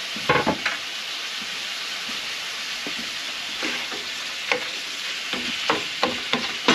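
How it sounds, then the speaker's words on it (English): Pork fries in a pan with ginger and garlic just added, a constant close sizzle broken by repeated scraping stirs and light utensil knocks. "partway through cooking the pork, I need to add my ginger and my garlic, so I'm going to do that now"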